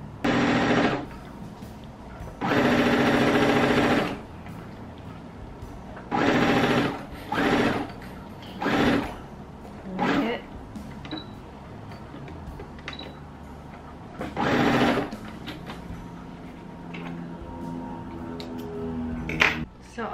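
A sewing machine whirs in several short bursts of stitching, separated by pauses with faint handling noises and a little quiet talk.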